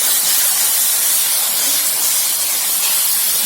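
Masala with turmeric sautés in a pan for jackfruit biryani, giving a loud, dense, continuous hissing sizzle with no pauses.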